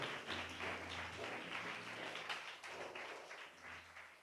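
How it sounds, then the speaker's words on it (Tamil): A congregation at a Tamil Christian worship service claps their hands together in praise. The clapping is a faint, continuous patter heard from a distance. "கைத்தட்டி ஆண்டவரை மகிமைப்படுத்துங்க."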